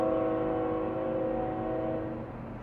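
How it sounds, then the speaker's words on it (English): A passing train blasts its horn in one long, loud, steady tone that holds for the whole stretch and eases slightly near the end, with a low rumble beneath it. "I apologize for the train."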